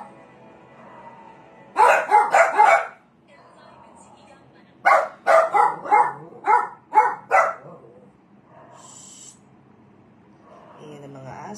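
Two bursts of dog barking ring out, a quick cluster of barks and then a longer run of sharp repeated barks at moderate distance, with some faint background voice between them.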